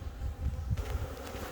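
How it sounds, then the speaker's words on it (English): A low, droning buzz of irritated honey bees at an opened hive hums steadily close by, wavering in intensity for a brief moment. "now I've irritated all the bees"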